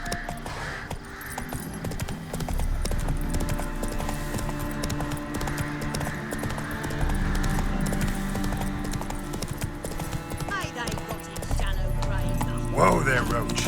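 Hoofbeats of the horse Roach in The Witcher 3, a steady clip-clop rhythm running throughout at moderate loudness, with a brief whinny near the end and game voices talking over it.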